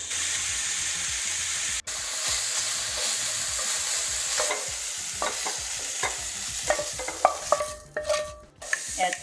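Sausage links fry in olive oil in a pan, giving a steady close hiss while crackles and spatters pick up and grow louder toward the end, alongside a couple of sharp clicks and scrapes.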